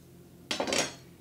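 A knife blade slices through avocado skin and scrapes around the pit in one brief, close, rasping stroke lasting under half a second against a quiet background.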